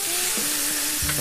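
Chicken breast pieces frying on a home kitchen grill after being turned over, a steady close sizzle with a faint scrape or two, no voices.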